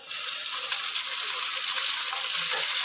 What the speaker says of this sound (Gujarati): હવે તેની અંદર કાંદા પણ નાખી દેશું